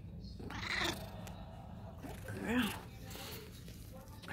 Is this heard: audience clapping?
no